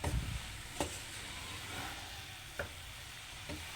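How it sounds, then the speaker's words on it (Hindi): Carrots fry in oil for a Pakistani gajreela dessert, a faint steady sizzle broken by a few light spatula knocks and stirring scrapes. "जब आपने गाजरें डालनी है ऑयल में तो आपने उसकी अच्छे से बुनाई करनी है"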